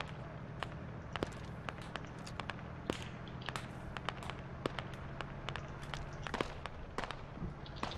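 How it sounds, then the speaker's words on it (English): Sharp, scattered gunshots crack at irregular intervals during a squad-based military video game, some near and some distant, over a low, constant background rumble with no clear voices. "I'm hearing the shots"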